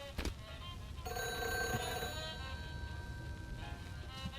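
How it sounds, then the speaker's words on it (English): An old-style telephone bell rings in the World War I flight game Aviators: War in the Skies, a steady metallic ring that starts abruptly, holds for about a second, then fades out over quiet background. "We got a phone call."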